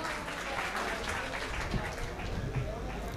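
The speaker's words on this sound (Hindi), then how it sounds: "बुलंद तरीन जोरदार तालियों से उनका इस्तकबाल करें" Applause welcoming a poet to the microphone at an Urdu mushaira in a celebration hall, a fairly soft, continuous patter of clapping with some murmuring voices mixed in.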